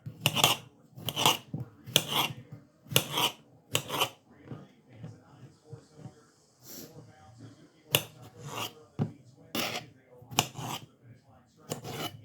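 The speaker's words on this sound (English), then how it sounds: "Cut your cantaloupe," A knife cuts a cantaloupe into bite-size pieces on a board, making about a dozen crisp, close chopping strokes in uneven bursts, with softer scraping in between.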